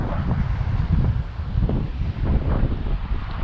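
Strong gusting wind buffets the microphone outdoors during a radio-controlled plane flight on a windy day, a continuous low rumbling roar with uneven surges that fills the whole stretch, with no talk over it.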